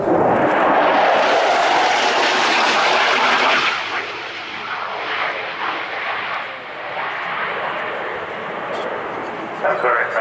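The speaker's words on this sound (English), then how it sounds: "one with impressive performance here in a high-speed pass" A Polish Air Force Mikoyan MiG-29A makes a high-speed pass at an airshow, a loud jet roar that swells as it rushes by and then fades into a long rumbling tail, with a commentator talking over it.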